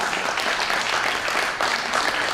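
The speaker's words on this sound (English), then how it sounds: "Let's give her a round of applause." Steady audience applause from a crowd at an advocacy event, dense continuous clapping at even loudness throughout.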